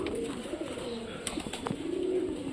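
Soft pigeon coos rise over a steady background hum, repeating a few times at moderate distance with faint chirps scattered in.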